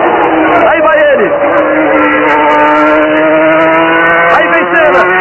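Ayrton Senna's Formula 1 car on a wet track in the rain, its engine screaming loud and close as it passes and revs, with other engine whines and a commentator talking throughout.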